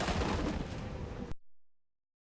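A gas tank is shot and explodes in the XCOM 2 video game, giving a loud, dense roaring blast that cuts off abruptly into a short fading rumble.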